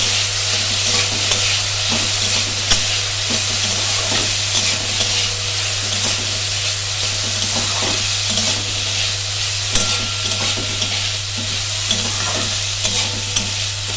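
Bottle gourd peel and potato fry steadily in a pan, a continuous broadband sizzle with frequent scraping stirs from a spatula, close and fairly loud, accompanied by a constant low hum throughout.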